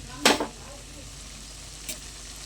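Spice paste with green chillies sizzles while being sautéed in a pan, with a short burst of frying and stirring, then a quieter sizzle and one more brief stir.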